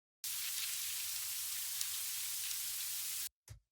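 Two layers of synthesized noise from an ambient techno track at 133 BPM form a steady, hissing wash like rain or static, holding level for about three seconds before cutting off, followed by a brief low thump.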